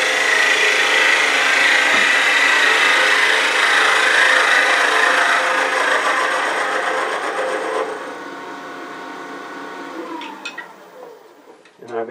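A finishing tool takes a smoothing cut across wood spinning on a lathe, giving a loud continuous scraping hiss that runs for several seconds, then fades and stops near the end.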